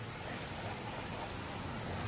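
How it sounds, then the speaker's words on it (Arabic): Heavy rain pouring during a storm at a swimming pool, a dense continuous hiss of drops striking surfaces, close and steady throughout with no voices. "شايفين المطر؟"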